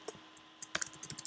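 Several quick, light keystrokes on a computer keyboard tap out a short burst of typing, fairly faint and close, with no voices over it.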